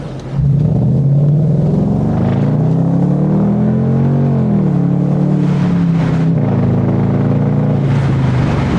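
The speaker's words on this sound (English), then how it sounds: "that's the kind of engine sound the car should have" A deep, throaty V8 engine in a Lexus SC 430 revs up and holds a rising, rumbling drone, then eases off and climbs again, close and loud.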